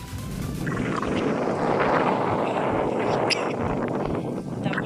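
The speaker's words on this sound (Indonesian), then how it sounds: "berangin sedikit guys" Wind blowing across the open grounds behind a preschool at SK Mesilou: a continuous, fairly loud rushing roar that buffets the microphone for the whole stretch.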